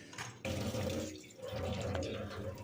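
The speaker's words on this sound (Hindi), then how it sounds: "तो बस इस लोटे को मैं माँज के धो के साफ़" Running water splashing as a copper lota pot is scrubbed and rinsed under a tap, a steady close pour with small clinks and shifts in the flow.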